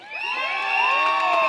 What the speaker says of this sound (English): So everyone, a round of applause for the staff on this campus.